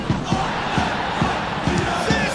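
Stadium crowd from a Paris Saint-Germain match in the Football Life 2025 video game: a steady broad roar of spectators with rhythmic chanting thumps, a commentator's voice briefly over it.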